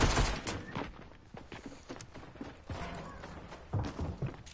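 AK rifle fire in a video game: a loud volley of rapid, crackling shots at the start, then scattered bursts and mechanical clatter, with another heavy burst near the end.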